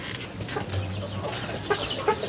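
Tiger breed chickens cluck softly and steadily nearby in a coop, with low murmuring hen calls and a few louder clucks rising over a constant background hum.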